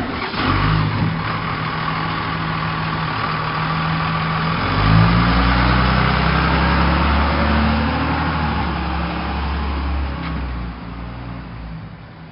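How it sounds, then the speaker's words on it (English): A delivery truck's engine idles with a low, steady rumble, briefly revving up near the middle before settling back and fading slightly at the end. "delivery truck"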